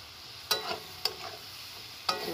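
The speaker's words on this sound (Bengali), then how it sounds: "সবজিগুলো দিয়ে আমি নেড়ে চেড়ে ভালো করে কষিয়ে নেব।" Fried vegetables with cumin-ginger paste being stirred and sautéed in a pan: a soft continuous sizzle broken by three sharp spoon scrapes or taps against the pan.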